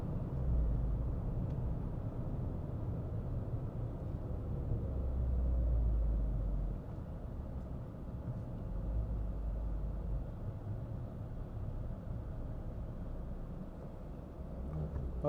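Cars on a parade lap around Castle Combe circuit at a Halloween action day, a steady low engine rumble heard from inside a car, fairly faint and continuous with slight swells in loudness.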